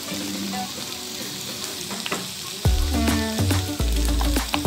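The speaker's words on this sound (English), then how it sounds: "our spices, our seasonings, and just stir over them" Ground beef with tomato paste and spices sizzling in a pan, a steady crackling fry with louder scraping stirs and thumps in the last half, close up, with a brief spoken word.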